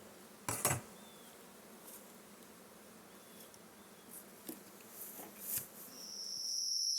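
Honeybees from a nucleus colony box produce a faint, steady hum, with a few sharp knocks and clatters of the wooden box and a rising close buzz near the end.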